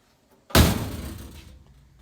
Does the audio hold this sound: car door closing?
yes